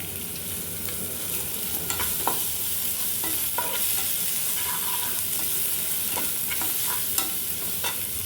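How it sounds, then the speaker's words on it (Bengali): A ground spice paste of turmeric, chilli powder, ginger, garlic and cumin frying in a pan, a dense steady sizzle broken by intermittent spatula scrapes and clicks, close and constant. "তো মশলাটা এই একটু এভাবে বেজে নিলাম"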